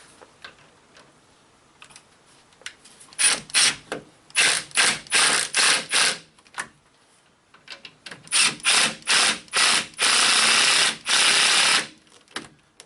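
A ratchet tightens sway bar bushing bolts on a 2002 Chevy 2500HD, clicking in repeated rapid bursts of several seconds each, close and loud with pauses between strokes.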